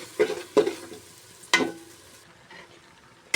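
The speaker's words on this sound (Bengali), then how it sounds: "এখন আমি এটাতে আমাদের সেদ্ধ করে রাখা নুডলসটা দিয়ে দেব" Boiled noodles are tossed into frying vegetables and stirred, giving several sharp scraping, clattering strokes against the pan at uneven intervals, close by, each fading into a soft sizzle, with no speech.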